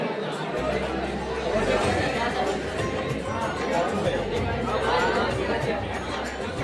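A dense night crowd at Trimbakeshwar temple fills the space with steady, loud chatter and overlapping voices, a continuous close hubbub with no pauses.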